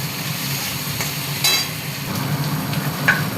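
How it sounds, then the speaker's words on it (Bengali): Shrimp frying in a pan with chopped onion and garlic, a steady close sizzle with occasional stirring scrapes and clinks throughout. "এর মধ্যে দিয়ে দেবো আমি চিংড়ি মাছগুলো, এর মধ্যেই দেব পেঁয়াজ কুচি আর"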